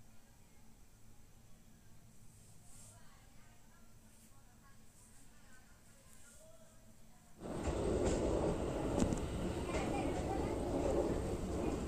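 A passenger train on the Hubballi to Vijayapura line rounding a curve just before a bridge, heard from inside: a low, steady rumble that suddenly grows louder and harsher halfway through and keeps roaring to the end.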